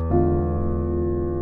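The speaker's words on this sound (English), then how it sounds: "That's the sound of the dominant 7 flat 9." A single sustained piano dominant seventh flat nine chord rings out, struck once and left to hold, rich and full with no other sounds.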